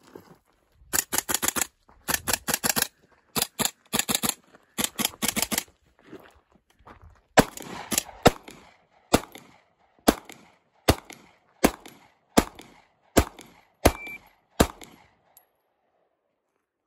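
Gunfire at targets during a shooting drill: rapid bursts of sharp, loud shots in tight groups of five, followed by a steadier run of evenly spaced single shots that gradually tapers off.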